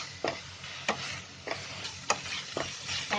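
Onion paste for chicken rezala frying in a pan, a steady soft sizzle broken by regular scraping stir strokes about every half second, close and fairly quiet.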